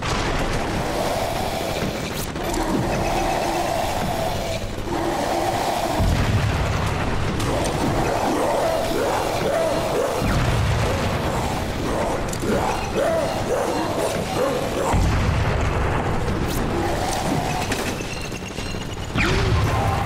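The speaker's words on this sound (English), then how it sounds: "Use your grenades to blow these freaks to pieces." Grenade explosions in the video game Crackdown 2, played on Xbox One, form a steady barrage of loud, overlapping booms and blasts that continue with no break for the whole stretch.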